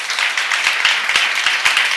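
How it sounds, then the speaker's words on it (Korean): A church congregation at a Korean seminar breaks into loud, dense clapping, many hands beating close together in a steady, continuous burst with a few sharper claps standing out. "박수 한번 치세요"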